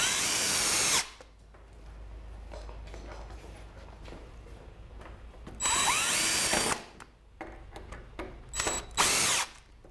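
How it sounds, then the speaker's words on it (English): Power drill driving screws into a pallet wood frame for a smokehouse, three loud bursts of whirring motor with the screw biting into the wood, separated by quieter handling noise. "I'm going to put a couple more screws in so it's nice and secure."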